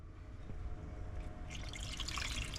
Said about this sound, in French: Donc on rajoute le vin.